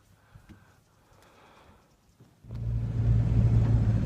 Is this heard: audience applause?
no